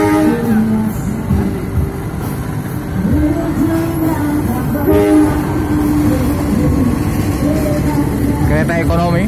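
The Bengawan economy passenger train, Purwosari to Pasar Senen, rumbles steadily and loudly nearby, with tonal wheel and engine hum throughout and a brief horn-like sweep near the end.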